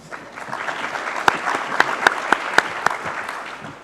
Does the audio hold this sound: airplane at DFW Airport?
no